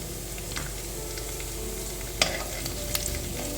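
Ingredients for wheat rava upma stirred in a hot pan with dried red chilli, a steady soft frying hiss broken by a few sharp scrapes and clicks of the spoon, close and alone.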